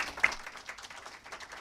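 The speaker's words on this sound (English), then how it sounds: "Please join me in giving her a warm round of applause." A small audience at a strategy summit gives a short, faint round of clapping to welcome a speaker, thin and uneven, with a slightly sharper clap near the start before it tapers off.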